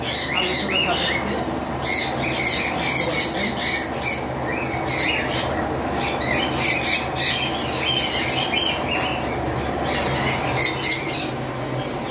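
Several sun conure parrots in a breeding pair setting keep up a dense chorus of shrill, close squawks and chirps, with someone talking underneath at times.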